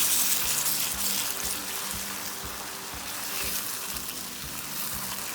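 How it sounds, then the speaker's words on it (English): Water hits a pot of frying fish for Gambian caldu, and a loud, steady sizzle and hiss of bubbling oil and liquid fill the whole stretch close by, with faint clinks of utensils underneath. "It's all set now, so I add in some water."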